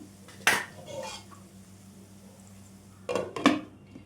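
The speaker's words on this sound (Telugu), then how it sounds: "ఇప్పుడు మూత పెట్టేసుకుందాం" A metal lid set onto a cooking pan of bitter gourd curry, giving a short clatter early and a double clink near the end over a low steady hum, close and fairly quiet.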